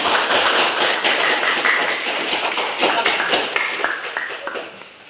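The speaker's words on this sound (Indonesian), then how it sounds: "berikan aplaus bagi teman-teman" A classroom of students applauds their classmates, a dense, steady burst of many hands clapping together throughout, loud and close, fading slightly toward the end.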